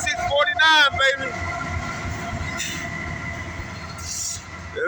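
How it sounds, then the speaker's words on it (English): A southbound Norfolk Southern freight train rolls past close by, a steady loud rumble of railcars with sharp wheel squeals and a brief horn-like tonal burst near the start, under continuous clatter. "There goes that southbound Norfolk Southern."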